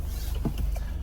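Power windows of a Peugeot 508 e-HDi closing, a short electric motor whir close inside the cabin, brief and fairly quiet over low engine rumble.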